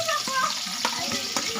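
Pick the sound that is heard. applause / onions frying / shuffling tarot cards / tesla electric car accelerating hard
onions frying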